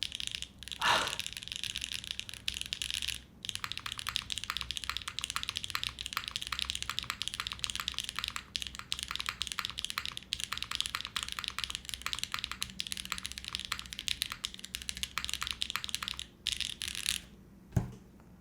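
Rapid, continuous clacky typing on a mechanical keyboard built without plate foam, with crisp keystrokes close up and a few short pauses.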